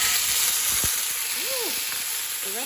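Spices hit a hot pan of Cajun chicken and sizzle in a steady, loud, close hiss. Faint clinks and scrapes of stirring come through it, and no one speaks.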